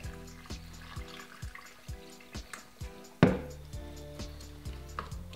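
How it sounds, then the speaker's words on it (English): Water trickles and drips steadily into a glass, with a louder splash partway through as the pour picks up. "So what I'm going to do is just full it of water."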